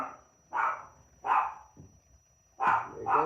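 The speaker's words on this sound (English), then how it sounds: "There you go, Prince barking." A dog barks four or five times in short, separate woofs at moderate distance, with brief pauses between barks.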